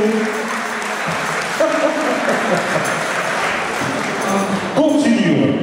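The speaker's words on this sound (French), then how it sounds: "Je vous demande de faire un immense tonnerre d'applaudissements" Audience applause at an 85th-anniversary celebration of a harmonia band with Polish-style music, a dense, loud, continuous clapping that holds steady throughout, with a voice over the top.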